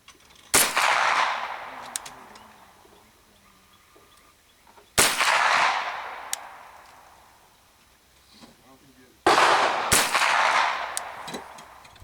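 Three loud, sharp rifle shots spaced several seconds apart, each with a long echoing decay, fired at a 100-yard target through a Vortex Sparc red dot sight at an outdoor range.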